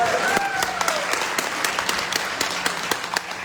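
Sustained applause from a large crowd of about 600 people at an achievers' meet in Goa, a dense wash of clapping with a few sharper individual claps standing out, heard alone without speech.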